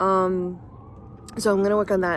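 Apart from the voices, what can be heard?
police sirens in the background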